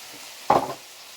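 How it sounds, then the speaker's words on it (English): A brief scrape and sizzle as garlic, chilli and pepper spices are stirred in a hot frying pan, a single short close stroke over a faint background hiss. "I'm just stirring your spices now."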